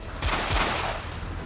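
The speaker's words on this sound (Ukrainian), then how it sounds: "І потім декілька пострілів уже в тіло." A quick burst of several gunshots in a narrow elevator cabin, loud and close, with two or three sharp reports that blend into a dense crackling volley and a lingering echo.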